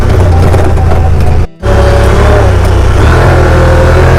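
A Honda Pioneer 1000 UTV in sport mode runs loud and close, its engine droning and climbing in revs, with a brief dropout partway through.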